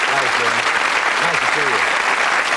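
Studio audience applauding on a British TV game show set, a dense, steady burst of clapping filling the whole moment at full volume while a host's voice carries over the top.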